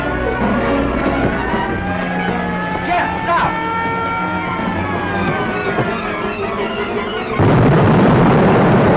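A gas explosion in a 1945 feature film erupts late in the scene as a sudden, sustained loud roar, following tonal music and background commotion.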